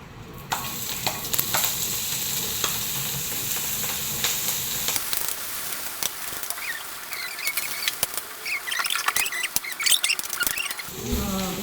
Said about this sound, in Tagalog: Ngayon, igisa na natin ang ating tuwalyang baka.